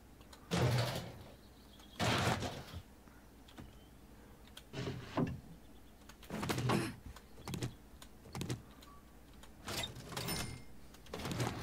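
A door opens in the 7 Days To Die video game, with repeated loud bursts of sound coming in separate sharp clusters, spaced a second or two apart, standing alone with no talking.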